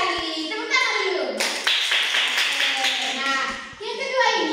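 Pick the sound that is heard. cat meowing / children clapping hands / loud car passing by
children clapping hands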